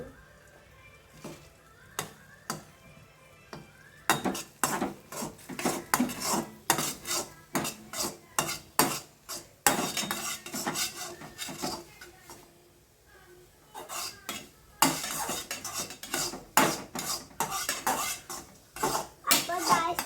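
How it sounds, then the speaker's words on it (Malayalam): A utensil stirs and scrambles food in a metal pan, making rapid clattering and scraping strokes in close, busy bursts with short pauses between them and a few brief voices. "അപ്പം നമുക്കിത് ചിക്കി കൊടുക്കാം കേട്ടോ."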